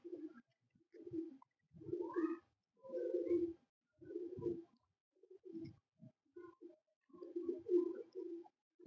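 Domestic pigeons kept by a breeder cooing softly in a loft, a series of low rolling coos in repeated bursts with brief pauses between, close and quiet, no talking.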